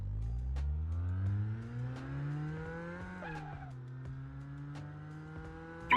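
A Myvi revs hard in a driving video game, its engine note climbing steadily, dipping at a gear change partway through, then pulling up again at a lower pitch, loud and continuous.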